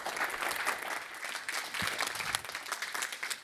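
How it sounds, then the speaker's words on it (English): Steady applause from an audience fills the space, a dense wash of many hands clapping at even loudness throughout. "So please, a round of applause for Jim McCann."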